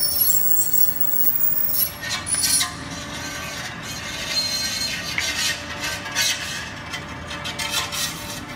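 Abnormal mechanical noise from a 2007 Aston Martin while driving, a steady rattling, clicking whir with brief louder bursts, heard continuously close up with no talking.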